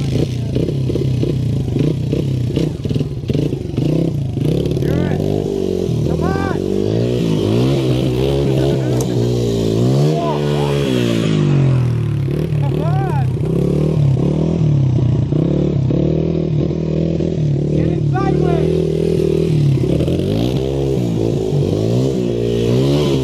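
A Honda XR100 dirt bike engine revs and accelerates close by on a trail near a pond, with repeated rising and falling pitch sweeps and loud, continuous motor drone mixed with speech.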